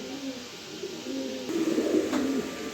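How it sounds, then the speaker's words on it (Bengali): A racing pigeon coos nearby in low, rolling, throaty calls, repeated over a few seconds against faint background hum. "মাশাল্লাহ দর্শক দেখেন কবুতর কাকে বলে"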